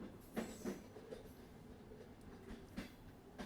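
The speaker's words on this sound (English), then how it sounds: "The train is still moving." Train rolling along the tracks at night, a soft, steady rumble with faint rhythmic clicks and brief wheel thumps every so often, heard from inside at low volume and without any voices.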